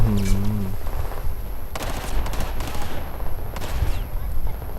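Rapid gunfire bursts ring out in a Battlefield 4 campaign mission, with loud, dense shots and a few sharper cracks repeating across the whole stretch amid battle noise.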